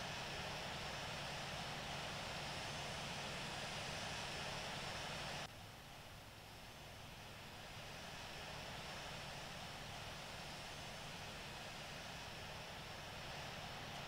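Steady broadband aircraft engine drone from a plane taxiing to runway 20 right at Singapore Changi in the Infinite Flight simulator, holding constant and loud, then dipping slightly in level about midway before settling into a softer continuous hum.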